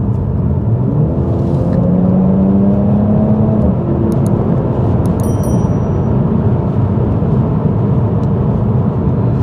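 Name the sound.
car driving with ASR exhaust module, exhaust fully open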